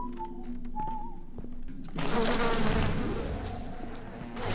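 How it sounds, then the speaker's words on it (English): Buzzing bees swell up suddenly in BioShock, a dense droning hum after a faint whistled tone, loud and close, continuing to the end. "Bees!"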